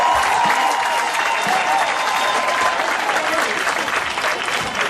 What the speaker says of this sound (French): On acclame le Seigneur pour ça.